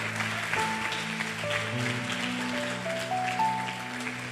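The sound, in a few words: church congregation applauding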